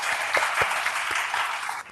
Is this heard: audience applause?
yes